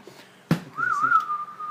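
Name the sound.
whistling a western tune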